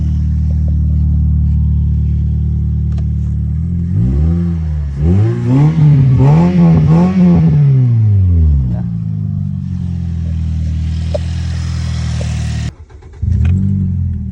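A 2008 Toyota Yaris engine with a 1000cc motor, after an ignition coil replacement, idles, then revs up loudly with a rising and falling whine before settling back to a steady idle.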